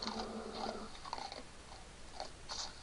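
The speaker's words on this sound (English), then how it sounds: "He just ate a raw rat alive." A creature in Minecraft crunchily eats a raw rat, giving quiet, repeated biting and chewing crunches in short bursts over a faint game background, with no talking.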